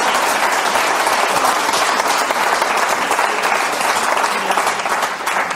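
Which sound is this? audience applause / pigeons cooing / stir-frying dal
audience applause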